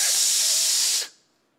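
A voice imitates a steak sizzling on a 1200-degree platter, producing a loud, steady hissing sizzle that lasts about a second before cutting off sharply.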